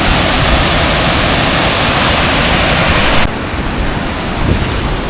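Waterfall at Kuppanatham dam in Tiruvannamalai, a loud, steady roar of rushing water close by that drops slightly in level partway through.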